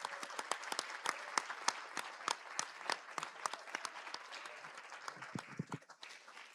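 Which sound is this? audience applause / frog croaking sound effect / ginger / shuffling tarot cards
audience applause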